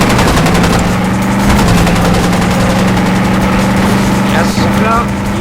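Rapid gunfire rattles over a droning engine during a chase in the Enter The Matrix video game, with someone talking over it throughout.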